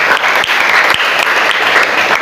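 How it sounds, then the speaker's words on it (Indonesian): Students in a chemistry classroom give a short burst of applause, loud, close and fairly steady clapping with no talk over it. "Oke, beri tepuk tangan dulu."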